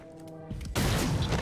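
Burst of gunfire in XCOM: Chimera Squad, a sudden loud crackling volley that cuts in after a quieter lead-in with faint tones and continues dense and close to the end.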